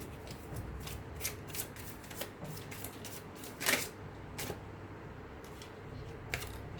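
Tarot cards are shuffled and drawn in quick, light riffles and soft flicks, close and fairly quiet, with one sharper snap of cards partway through.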